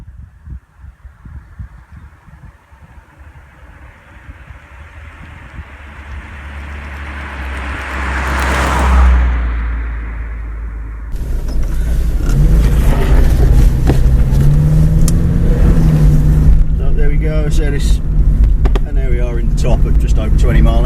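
A 1987 Vauxhall Astra 1.3 automatic pulls away from a small side road, its engine note building steadily as it accelerates, then settling into a steady cabin drone mixed with road and wind noise.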